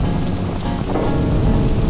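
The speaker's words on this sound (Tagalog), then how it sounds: "Akala namin simpleng ulan lang, pero parang bagyo ang dumating." Heavy rain pours steadily during a storm on a coastal ride in Pangasinan, a dense, loud, continuous wash with low rumbling underneath and no voices.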